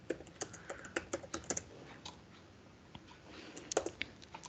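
Typing on a computer keyboard during app development, heard as irregular bursts of quick clicking keystrokes with short pauses between runs, fairly close and moderately quiet, with no talking.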